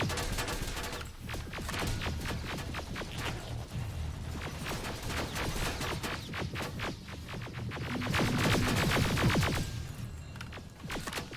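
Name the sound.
gunfire in the video game Terminator: Resistance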